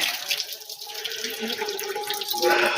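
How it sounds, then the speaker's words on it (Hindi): A hand pump in a Bihar village in winter sends warm water gushing out in a continuous, loud splashing stream close by, with steady surges of flow. "बिहार का ये नलका है, जिसको एक बार चलाएंगे तो पानी भर भर के आता है"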